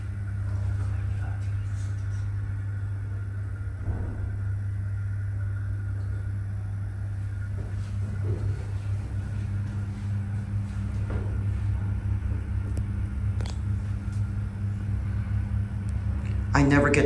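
An old Otis Lexan traction freight elevator at a store in Beijing rides with a steady low rumble and hum that holds throughout, with faint clunks and rattles along the way and a louder thump at the end.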